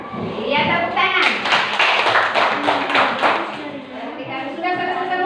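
Children in a classroom lesson clap together in a short burst of rapid clapping, with young voices talking before and after it.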